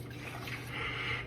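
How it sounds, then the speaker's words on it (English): Water pours into a crockpot with a soft, continuous liquid trickle and splash, close and fairly quiet, with no voices. "Next, I'm putting some water in there."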